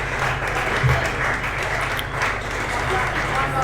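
A cricket crowd at a WACA Premier T20 match between SPCC and Joondalup applauds a batter's half-century. The applause is steady and distant across the whole stretch, with a commentator talking over it.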